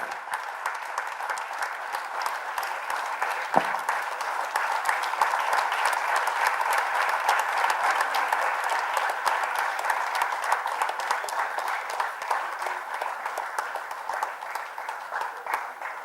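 Sustained applause from a political gathering's audience for Central Chennai candidate Vinod Selvam, a dense, steady wash of many hands clapping at moderate distance with no talk over it.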